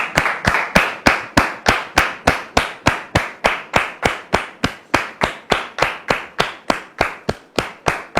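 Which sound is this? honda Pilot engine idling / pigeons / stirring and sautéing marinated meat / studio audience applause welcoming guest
studio audience applause welcoming guest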